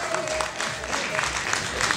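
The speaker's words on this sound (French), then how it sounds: "s'il vous plaît, sur vos applaudissements" Audience applause during the Miss Guinée 2016 pageant as a jury member is introduced, a steady dense clatter of many hands with crowd murmur and some talk mixed in.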